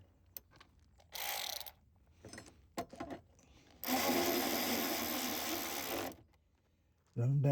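Mounting bolts for side steps on a 2024 Toyota Tacoma run down with a power tool: a short burst of whirring, then a longer, louder steady run of about two seconds, with brief clicks and handling noise between.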